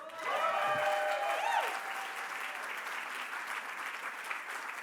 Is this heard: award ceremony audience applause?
yes